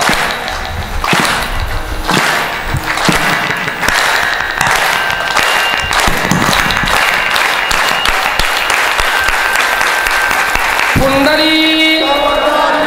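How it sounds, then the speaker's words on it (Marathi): Audience clapping along at a Marathi kirtan devotional gathering, steady loud rhythmic hand claps filling the space, with a harmonium-like melody and singing rising near the end. "टाळी वा"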